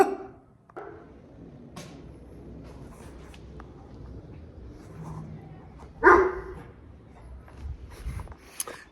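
A pet dog named Ace barks a few times at close range in a home, short sharp yaps with a louder burst near the middle, over quiet room noise with faint voices in the background.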